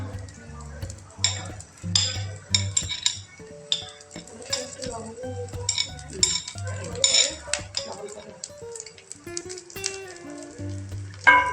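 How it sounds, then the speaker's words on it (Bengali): Chopped onions, then green chillies, go into hot oil for fried rice, sizzling under frequent metallic clinks and scrapes of a utensil against the pan. "এখন এক এক করে আমরা পেঁয়াজ প্রথমে তেলের মধ্যে দিয়ে দেব, এরপর দেব কাঁচামরিচ"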